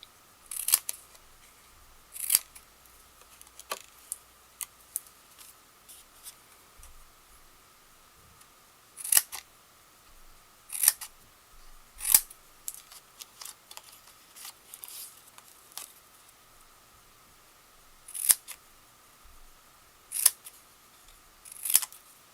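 Scissors snipping notches from the corners of card stock, sharp crisp cuts scattered in single and paired snips with quiet gaps between them, close and clear with no talking.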